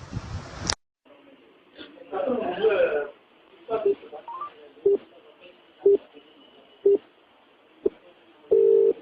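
Telephone dialing tones on a recorded phone call, a rapid burst of keypad beeps followed by a series of evenly spaced short tones, clear and fairly loud with no talk over them.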